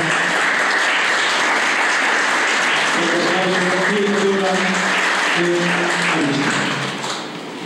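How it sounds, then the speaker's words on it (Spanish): Loud sustained applause from the audience at an informational talk on ADHD, with a tonal hum or murmur weaving through the middle and the clapping fading slightly at the close. "Démosles un fuerte aplauso"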